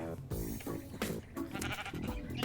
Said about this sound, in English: So here's 2 sheep.